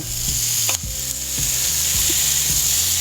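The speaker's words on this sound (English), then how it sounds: "You can see the garlic is browning and caramelizing." Shrimp scampi with garlic sizzles loudly in a pan, a continuous close-up frying hiss broken by several soft clinks and stirring scrapes, with no voices.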